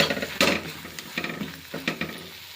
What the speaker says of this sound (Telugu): ఇలా వంకాయ ముక్కల్ని నూనెలో బాగా కలిపేసి